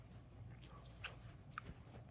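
Soft, close mouth noises of someone chewing fruit-filled turkey stuffing with a full mouth, a steady low rumble with two brief crunchy bites, no talking.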